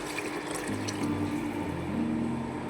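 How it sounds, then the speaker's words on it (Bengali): Water poured into a pot of sambar with tamarind, a continuous close splashing pour that stays steady and fairly soft, with no talk. "জলটা দিয়ে দেবো"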